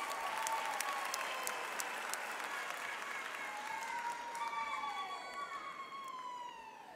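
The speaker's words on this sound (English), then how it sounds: "We need to uplift the clapping." Audience at a university autumn graduation ceremony applauding steadily, fairly distant and even, with a siren-like tone sweeping through the room and faint voices underneath.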